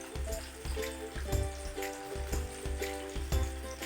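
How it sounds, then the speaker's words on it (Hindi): Chicken drumsticks crackle and sizzle in hot oil over high heat, a soft steady frying hiss broken by repeated pops and spatters, with no one talking. "अब जो बाकी हमारे ड्रम स्टिक पड़े थे मैं उनको फ्राई कर रही हूँ"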